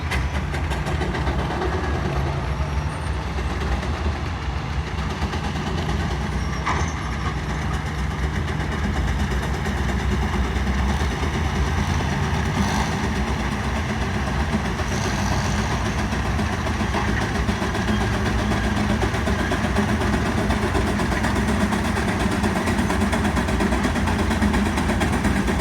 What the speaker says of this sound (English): for the first time watching a steam engine pull